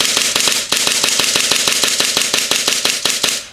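An airsoft gun fitted with an EDGE/AM blowback unit fires rapid bursts, sharp close clicking shots in a fast, regular rhythm with a brief pause near the start.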